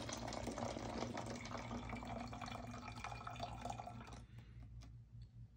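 Water is poured off from a small micro aquarium holding bioluminescent dinoflagellates, a close, continuous trickling and splashing pour that stops near the end, leaving a few scattered drips.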